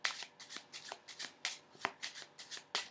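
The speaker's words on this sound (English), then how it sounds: "get those shuffled by the spectator" A deck of playing cards is riffle-shuffled over and over by a spectator at a magic trick, the crisp close riffles coming in a quick regular rhythm, about a dozen bursts.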